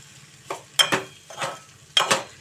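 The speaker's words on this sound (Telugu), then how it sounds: "ఇప్పుడు కొద్దిగా అల్లం వెల్లుల్లి పేస్ట్ అయితే వేస్తున్నానండి" Ginger garlic paste frying in a cluster bean curry in a pan, with several bursts of sizzling and stirring clatter close by, spaced roughly half a second apart.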